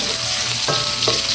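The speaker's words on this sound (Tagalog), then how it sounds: "Ayan guys, mag-gisa na tayo." Ginger and garlic sautéing in hot oil before chicken feet are added, a loud continuous frying hiss with two short scrapes of a spatula stirring in the pan.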